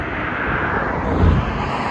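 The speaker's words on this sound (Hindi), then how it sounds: "ऊपर हेलीकॉप्टर जा रहा है" Helicopter, likely a police patrol craft, passing overhead in Muscat, Oman, heard as a steady broad engine and rotor roar that swells slightly near the middle, loud and continuous with no talk.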